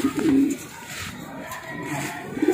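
A Santa Ana Finisher pigeon coos softly up close, a low throaty burble repeating at the start and end over quiet room noise.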